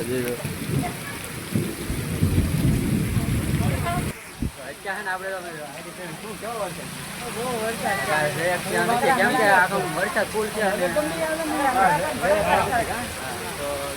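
Heavy monsoon rain pours steadily as a dense hiss, with a sharp low thump early on, while someone talks continuously over the downpour.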